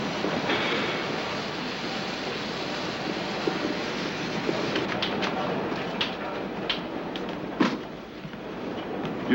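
A train runs steadily along the rails with a continuous rumble and scattered clicks and clacks, heard from on board or nearby, with no talk over it.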